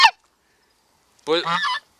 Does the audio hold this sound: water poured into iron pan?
no